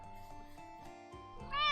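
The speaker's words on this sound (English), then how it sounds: "That's my cat." A pet cat named Val meows once near the end, a rising harmonic cry that swells loudly over a steady background with music-like tones.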